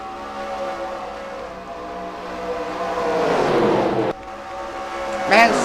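NASCAR stock cars racing in NASCAR Racing 2003 at the Geico 500, a steady loud engine drone building in pitch and volume, then a sudden drop as one car passes, with a brief high whine near the end.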